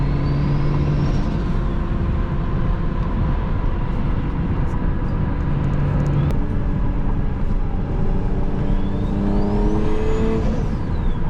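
A loud, continuous engine roar with rising whines and whooshing turbo sounds, a car revving nearby, steady throughout.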